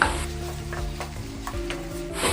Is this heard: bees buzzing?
no